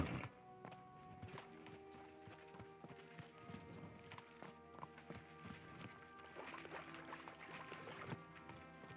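Horse hooves clip-clop steadily and close by on hard ground in the medieval game Kingdom Come: Deliverance II, with the horse moving continuously over a busy background of ambient game sound.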